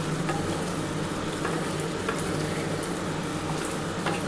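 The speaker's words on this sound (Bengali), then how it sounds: "এই ধনে পাতাটা দিয়ে খুব ভালোভাবে কিন্তু কষাতে হবে।" Bengali chicken kosha is stir-fried with fresh coriander leaves, a dense continuous low sizzle with occasional faint scraping stirs, steady and moderately quiet throughout.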